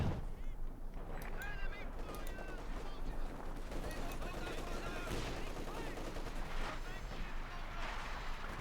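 Field guns in Company of Heroes 2 pounding a flak half-track, a dense barrage of gunfire and booms under a commentator's continuous speech, with honking tones and battle noise throughout.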